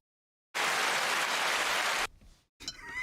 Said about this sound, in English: That did not deserve applause.